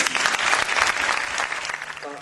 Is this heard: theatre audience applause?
yes